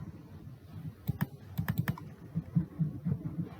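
Computer keyboard keys tapped while entering a character code in Word, a short burst of quiet, close clicks in an uneven run, heard alone without any voice.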